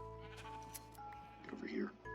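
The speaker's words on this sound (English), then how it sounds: "I'm just gonna fill up this sheep pen with sheep" Sheep bleating in the Minecraft video game, a short wavering bleat near the end over a steady game background with talk running underneath.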